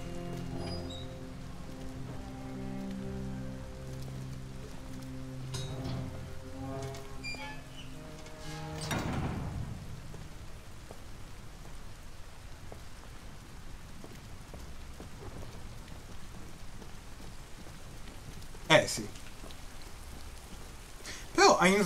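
Steady rain from the video game Detroit: Become Human hisses through the scene, with some musical tones early on and a few sharp thuds later.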